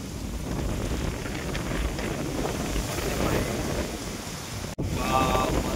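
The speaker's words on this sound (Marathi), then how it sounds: "वारं सुटलं डायरेक्ट" Strong wind blowing hard outdoors ahead of heavy rain, a loud, constant roaring rush buffeting the microphone with a brief dropout near the end.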